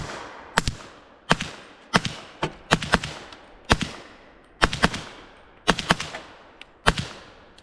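Sharp rifle shots from a PSA Jakl chambered in 300 Blackout, firing Remington open tip match bullets outdoors: about a dozen loud, crisp cracks in uneven clusters of single and double shots, with no talking between them.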